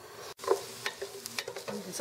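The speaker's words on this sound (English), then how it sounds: "So we got our peppers stirring in with our onions." Chopped peppers and onions sizzle in olive oil while being stirred in a pan for jerk chicken chili, a close steady frying hiss broken by scraping stir strokes.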